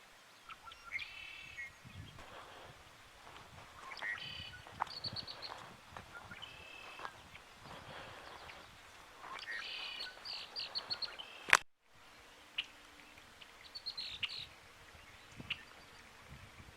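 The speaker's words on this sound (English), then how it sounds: "Lots of birds this morning" Morning birdsong in a national forest: several birds chirping and trilling in repeated bursts at varying distances over quiet outdoor ambience, with a brief handling bump partway through.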